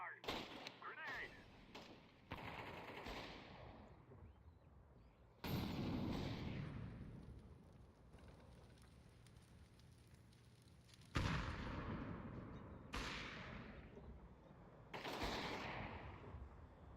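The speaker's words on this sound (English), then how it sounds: "I'm throwing flashbang. Fire. Grenade." A video game firefight with a flashbang, a grenade and gunfire: muffled booms and bursts of shots rise and fall over a low rumble, fairly faint overall, with voices talking over the action.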